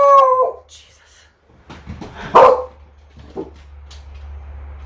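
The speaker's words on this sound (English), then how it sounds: "I don't know what she's even barking at." A dog in a home barks and howls a few times in short, separate bursts with quiet gaps between them, set against a low steady hum.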